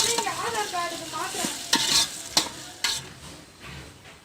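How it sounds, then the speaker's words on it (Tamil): Cinnamon, cloves and onions sauté in oil in a pan on a stove, with a close, steady sizzle broken by several sharp knocks of a spatula as they are stirred. "இப்போ நான் வந்து அடுப்பில் எண்ணெய் எல்லாம் ஊற்றி பட்டை, லவங்கம், வெங்காயம் எல்லாம் போட்டு வதக்கின்னு இருக்கேன்."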